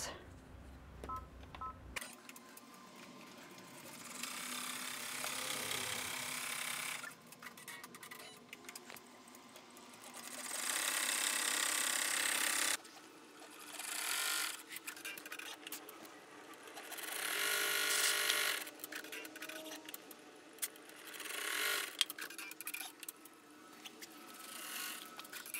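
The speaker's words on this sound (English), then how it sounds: "Put it back in the machine and it's going to run the outline around the cogs." An embroidery machine stitching an outline around cog shapes for an in-the-hoop steampunk hair bun holder, running in long steady mechanical bursts of rapid needle rattle separated by brief pauses.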